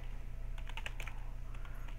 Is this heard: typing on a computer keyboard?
yes